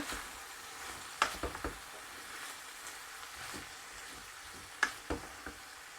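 Onion frying in a pan gives a faint, steady sizzle with a few soft clinks and stirring knocks scattered through, with no talk.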